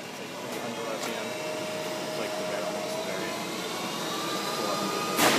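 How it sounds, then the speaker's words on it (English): A Milltronics CNC vertical mill runs in low gear, giving a steady, moderately loud machine drone with a faint whine throughout, ending in a brief louder burst. "He's running it in low gear right now."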